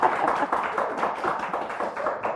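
A small audience claps for guests on a chat show, a fairly close, busy patter of hands that carries on steadily with no talk over it.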